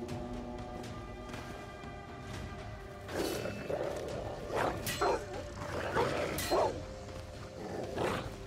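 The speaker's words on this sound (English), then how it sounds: "Not more dogs." Dogs bark in bursts in the video game Banishers: Ghost of New Eden, several rough barks spread over a few seconds above a constant background ambience.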